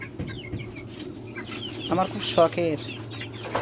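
Backyard chickens cluck close by in a few short, bright bursts over a low steady hum, with a person speaking briefly among them.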